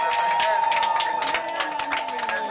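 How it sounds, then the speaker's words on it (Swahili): A church congregation at a gift presentation erupts in a sustained crowd roar of cheering and high ululation mixed with clapping, loud and close, with voices shouting throughout. "Jamani, tuipokee kwa vigeregere na kwa shangwe."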